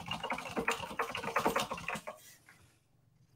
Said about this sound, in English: was that you typing?